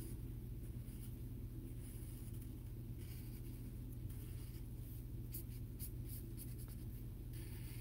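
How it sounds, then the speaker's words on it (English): Marker or pen strokes coloring in a doodled surfboard in pink, a steady soft scratching that runs continuously over a low background rumble, with no talking. "So let's color in our surfboard."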